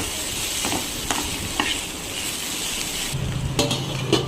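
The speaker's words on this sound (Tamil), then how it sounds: "ஆட் பண்ணிவிட்டு நல்லா மிக்ஸ் பண்ணி விடுறேன்." A prawn and potato curry with turmeric and salt is stirred in a pan: a steady sizzle runs underneath while scraping spoon strokes land at irregular intervals, close and clear, with no talking.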